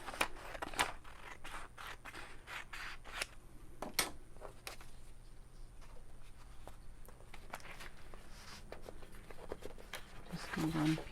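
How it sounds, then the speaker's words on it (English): Scissors snip through a small piece of magazine paper being trimmed to size for a craft tag, making quiet, close, irregular cutting clicks with soft handling noise between them. "just going to cut this to that size"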